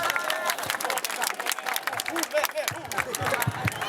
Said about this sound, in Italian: facciamoli un applauso